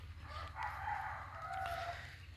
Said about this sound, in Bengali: সকালে ভোরের ডাকে কুহু কুহু করে ওঠে মুরগি, ঘুম ভাঙে।